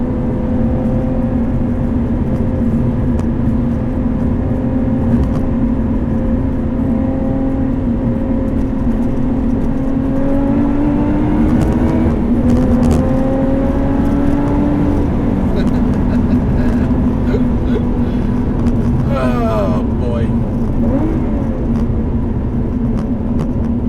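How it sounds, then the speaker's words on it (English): A 2018 Lotus Evora 410 Sport's mid-mounted engine drones steadily while driving, heard from the cabin. The tone swells and rises in pitch partway through, then settles back to a constant, loud hum. "Just listen to the car for a second."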